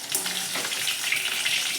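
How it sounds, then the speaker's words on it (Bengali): Crispy chicken pieces get a second frying in hot oil, giving a steady, dense sizzle and crackle that holds at an even loudness throughout, close and without any voices. "আর একবার ভেজে নিই লাল লাল করে"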